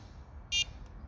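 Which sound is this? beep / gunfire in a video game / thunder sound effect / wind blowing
beep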